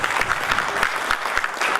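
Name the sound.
audience applause welcoming a speaker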